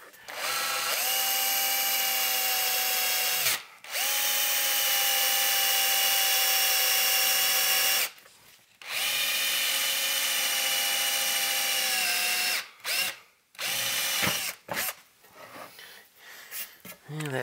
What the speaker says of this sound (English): I just like using standard drill bits.